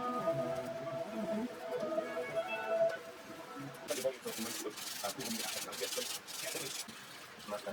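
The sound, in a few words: polishing guitar frets on a Yamaha F370 acoustic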